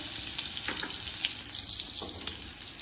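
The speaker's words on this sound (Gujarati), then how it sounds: "હું વઘાર માટે મરચાં નાખું છું, રાઈ નાખું છું" Green chilies and mustard seeds sizzle in hot oil for a tempering over a medium gas flame, a steady crackling hiss with sharp pops and spits scattered through it, close and unbroken by talk.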